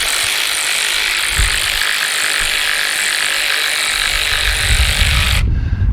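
Steady ratcheting as a wrench tightens the top nuts on the front shock absorbers of a 1955 Triumph TR2 under restoration, a continuous close clicking buzz lasting about five seconds before stopping abruptly.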